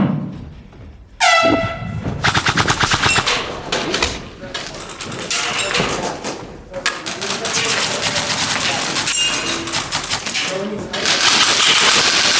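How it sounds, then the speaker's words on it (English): An air horn sounds to start an airsoft round at a national championship, a loud blast followed by rapid rattling airsoft gunfire and shouting players. "Live on the horn."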